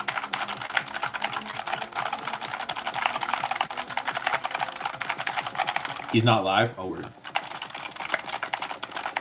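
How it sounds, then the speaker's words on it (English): Typing on a computer keyboard: a dense, steady run of quick clicks going on throughout, heard close up beneath a voice talking. "This is the keyboard I use for my sending an email to people."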